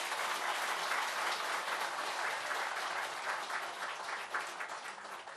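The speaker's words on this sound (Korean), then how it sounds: "따뜻한 박수로 맞이해 주시기 바랍니다." A ceremony audience at the opening of a centennial memorial hall claps warmly in a steady, full round of applause that holds for several seconds and fades a little at the close.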